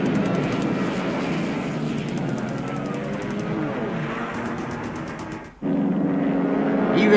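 Wartime aircraft engines drone loudly during an airstrike in a Pacific war strategy game, a dense continuous roar that drops out for an instant and then resumes.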